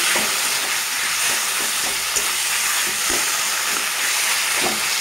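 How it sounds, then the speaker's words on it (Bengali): Taro greens cooked with a hilsa fish head fry in a pan with a continuous loud sizzle and hiss, broken by recurring scraping thumps of stirring at an uneven pace. "ইলিশ মাছের মাথা দেবো, তো ভালোভাবে মিশিয়ে নিব মাথার সাথে।"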